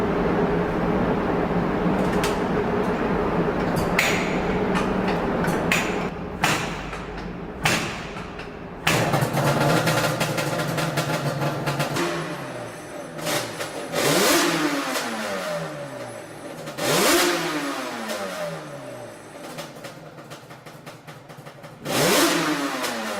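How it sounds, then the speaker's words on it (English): A 2005 Yamaha Banshee ATV engine with a misfire cranks with rough starter bursts, then catches and runs, revving up and down repeatedly in loud surges that settle back to a steady idle. "And now let's fire the engine and see the result."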